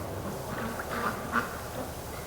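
Muscovy ducks quacking on icy winter water, a few short soft calls rising over steady outdoor background noise, moderately distant.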